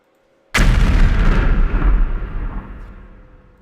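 An explosion sound effect bursts in suddenly after a short silence, a loud, deep boom with a rumbling tail that slowly fades over several seconds.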